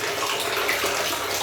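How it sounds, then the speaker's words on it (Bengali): Tap water pours steadily into a bucket, a loud continuous rushing splash close by with no pauses and no voices. "এরকম জল পড়ছে"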